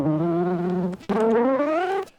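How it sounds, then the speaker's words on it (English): A bee buzzing sample plays from a Teenage Engineering EP-1320 sampler, a close, droning insect buzz in two short bursts split by a brief gap, the second slightly higher and wavering. "we have some bee sounds for you."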